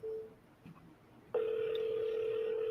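A telephone gives a short tone, a brief pause with faint clicks, then a steady continuous tone that holds to the end, close and moderately loud.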